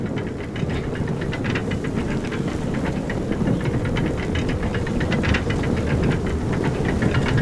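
Frozen lift mechanism running in Telltale's Game of Thrones, a steady loud grinding and clanking rumble with rapid rhythmic knocks, like heavy gears and chains turning without pause.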